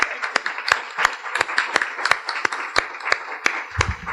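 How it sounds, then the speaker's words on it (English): An audience applauds a former councilwoman at a Women's History Month event, a few nearby people clapping loudly in a fairly regular rhythm over a softer background patter, with a brief murmur near the end. "Please, a hand of applause, a round of applause for Marian Tasco again."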